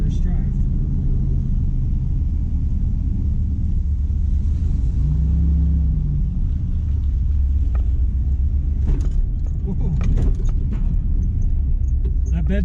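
A red 1992 Chevy Silverado OBS pickup, freshly repaired with a new fuel pump, rumbles steadily from inside the cab on its first drive, with a brief rise in engine pitch and a person talking over it.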